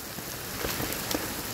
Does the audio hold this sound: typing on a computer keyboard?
no